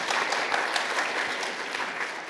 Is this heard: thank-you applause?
yes